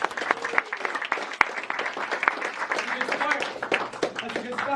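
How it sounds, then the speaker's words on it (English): A live audience at a magic show claps in a sustained round of applause, dense and close, with voices and cheers mixed in under the clapping. "Give Nadia a big round of applause."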